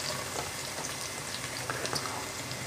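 Garlic sautéing in oil in a pan while cooking batsoy, a soft, steady bubbling sizzle with scattered faint crackles, fairly quiet throughout.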